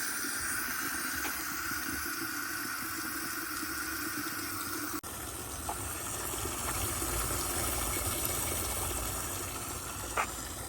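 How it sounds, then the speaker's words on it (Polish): Water flows and splashes continuously from a fountain spout, a steady gushing hiss with small shifts partway through. "Tym sobie nalejemy wodę."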